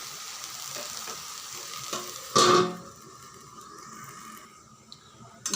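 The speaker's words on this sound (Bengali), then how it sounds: "আঁচ কমিয়ে কমিয়ে ভেজে নিতে হবে।" Prawns and taro frying over low heat in a pan, a soft continuous sizzle with a short loud clatter of a lid or utensil partway through, then quieter bubbling with faint clinks.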